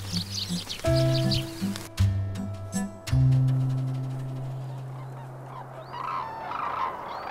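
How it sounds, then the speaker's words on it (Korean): Red-crowned cranes give a few loud, honking, brassy calls in a wintry garden, the notes sometimes held and overlapping. Faint small-bird chirps and soft background sound continue after the calls fade. "전 세계에 5천여 마리밖에 남지 않은 제두루미"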